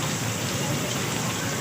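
Steady rain pours down on a rainy day in Karachi, a dense even hiss of drops on surfaces with no break, fairly close and constant.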